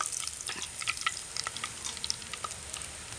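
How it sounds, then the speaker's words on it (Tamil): Fennel seeds sizzle and crackle in about four spoons of hot oil, tempering for a snail gravy, a soft continuous frying hiss dotted with small pops, heard up close with no talking. "ஒரு நாலு ஸ்பூன் எண்ணெய் ஊற்றிருக்கேன் தாளிக்கிறதுக்கு சோம்பு போட்டுக்குவோம்"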